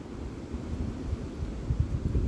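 Gusty wind buffeting outdoors on an exposed spot, a low rumbling roar that swells and pulses, with no talk.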